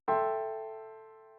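A single piano note struck cleanly and left to ring, with a bright attack and a smooth, steady decay over about a second, alone and fairly quiet.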